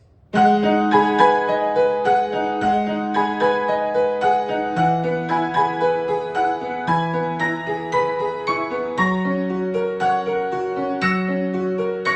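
Solo piano plays a piano arrangement from A Certain Scientific Railgun: a steady melody over sustained bass notes, clear and close, with even rhythmic chords throughout and no talking.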